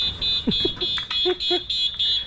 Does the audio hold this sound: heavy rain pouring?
no